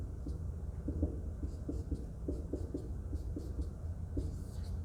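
A pen scratches across paper in short, irregular strokes while a structural diagram is drawn, quiet and close over a low background hum.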